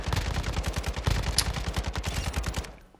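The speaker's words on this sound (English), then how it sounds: "Look, this is the RPK, by the way." RPK light machine gun firing in Call of Duty DMZ, a loud sustained burst of rapid, evenly spaced shots for about three seconds before cutting off.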